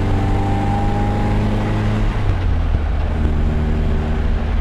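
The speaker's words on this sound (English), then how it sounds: "The exhaust note is perfect in this car." A 1966 MGB GT under way, its exhaust giving a steady, close, low droning note with a smooth tone that holds evenly throughout, no voices over it.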